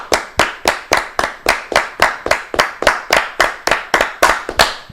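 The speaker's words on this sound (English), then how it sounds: "20 claps ready" Loud, close hand claps land in a steady, evenly spaced rhythm, about seventeen of them without a break, counted out on cue during a live reaction stream about an LSU baseball loss.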